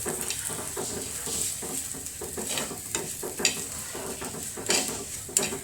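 Kashmiri chilli masala fries in a pan, a continuous crackling sizzle with occasional scraping stirs and light clinks of a utensil against the pan.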